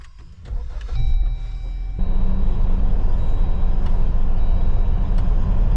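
A Jeep Wrangler with a brake fault that pulls it across the road, heard from inside as the engine and road noise rise sharply after a brief quieter start, then hold a steady loud drone with faint whines and clicks.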